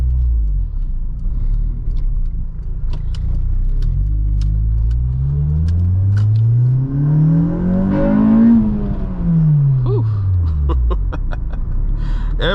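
A 2006 Acura RSX Type S engine, heard from inside the car, climbs steadily in pitch and loudness as it revs into VTEC, peaks near the middle, then falls away under a shift before rising again.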